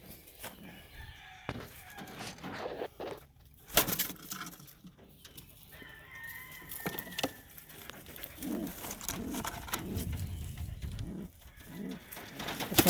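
Homing pigeons, including some white ones, coo softly inside a breeding pen. The low, rolling calls repeat under faint rustling and occasional sharp knocks, with no one talking.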